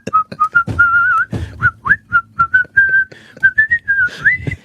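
Tuneful solo whistling of a melody from The Odd Couple, a lively run of short and held notes with quick gaps, close and clear with no talking.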